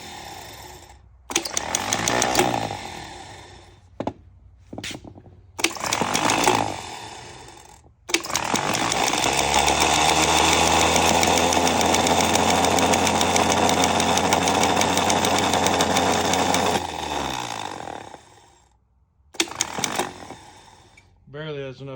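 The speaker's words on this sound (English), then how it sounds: "I don't think the starter's any good" Weak starter struggling to crank an engine, a sustained labored whirring run of several seconds, preceded and followed by shorter bursts of cranking with pauses.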